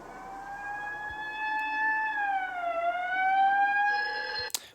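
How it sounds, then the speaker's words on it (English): A wailing police car siren in a film rises and falls steadily, loud and fairly close, ending with a brief sharp click. "the police siren triggers the sound of the phone ringing"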